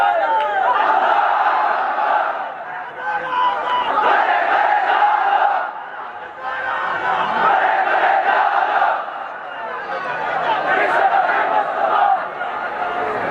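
A large crowd roars a takbir chant in unison at a religious gathering, several loud sustained waves of massed voices rising and falling for the whole stretch, with short dips between each shout.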